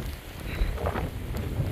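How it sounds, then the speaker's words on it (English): Wind and rain buffet a cold, foggy mountain trail at Angel's Rest, a steady broadband wash with low rumbling gusts against the microphone and no one talking. "Windy, raining, fog."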